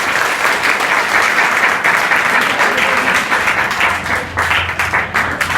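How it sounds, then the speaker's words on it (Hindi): A school audience applauds steadily, dense clapping from many hands holding at an even level throughout, close and lively. "एक ताली और बजा दो"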